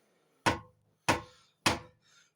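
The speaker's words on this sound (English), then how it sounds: "It's very fast to do this, to bang the bottom," A hammer bangs the bottom of a loose chute on a Honda snowblower: three sharp, evenly spaced metallic strikes, close and loud, each ringing out briefly, then a softer tap.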